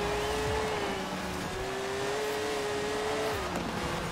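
Porsche race car in Forza Horizon 4 pulling hard from the start, its engine holding a steady loud drone that climbs, dips at a shift and climbs again, with constant road and tire noise.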